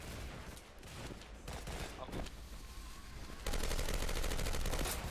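Rapid gunfire from the video game Double Action Boogaloo, with pistols firing in dense bursts that grow louder and more continuous toward the end, mixed with faint voices.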